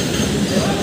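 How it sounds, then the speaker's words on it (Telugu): A local commuter train rumbles steadily along the rails, a loud continuous roar with dense rattling throughout the short stretch, heard from on board with no clear voices. "Local train."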